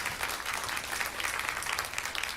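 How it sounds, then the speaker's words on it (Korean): A church congregation claps in a continuous, fairly faint round of applause that holds steady throughout, with no talk over it. "우리 하나님께 감사의 박수 올려드리도록 하겠습니다."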